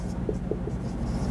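Chalk or marker scratches across a classroom board during a physics lecture, several short faint strokes over a steady low room hum, close by, with no talking.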